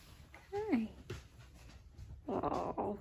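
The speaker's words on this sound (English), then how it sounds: "They're starting to bite each other and bark." Three-week-old puppies yelp and growl in short whimpering bursts, close by, mixed with a person's talk in a quiet room.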